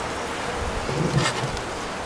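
Honeybees from a weak colony hum steadily around an opened hive with honey frames, a close, continuous buzz that swells slightly in the middle.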